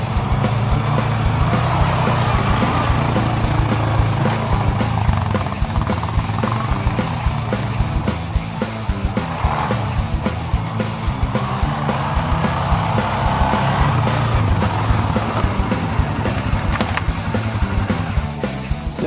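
A 2014–2015 Suzuki King Quad 750 AXi ATV rides through light snow, its engine humming loud and steady with small throttle changes and a continuous rumble over the whole stretch.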